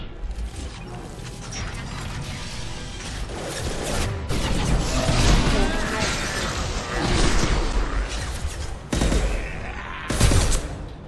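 Sniper rifle fire and combat in the video game Mass Effect 2, dense crashing shots and mechanical clatter that swell and fall, with a sharp loud burst near the end.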